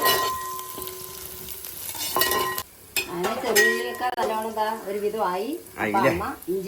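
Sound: onions and curry leaves sautéing in a pan

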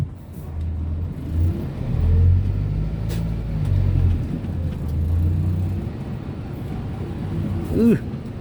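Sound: Yanmar YM 531 A tractor engine pushing a dirt pile

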